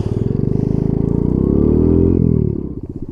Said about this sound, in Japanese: 原付一種 50cc 絶滅危惧種モンキー50いきます